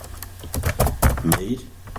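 Keystrokes on a computer keyboard while a mail is typed on a UNIX system, a quick run of clicks with a brief voice-like murmur in the background.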